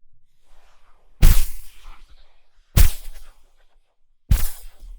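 Three big designed magic impact transients strike in turn, each a sharp, booming hit with deep low-end weight and a short shimmering tail, spaced out by near silence.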